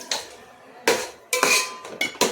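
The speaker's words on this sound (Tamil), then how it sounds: "இப்போ சிக்கன் கழுவி வச்சுருக்கேன், அதை போட்டுக்கிறேன்" Washed chicken pieces dropped into a pan of oil-sautéed masala for Chettinad-style chicken biryani, giving a few separate clattering thumps and scrapes of metal cookware, close and fairly quiet, with no talking.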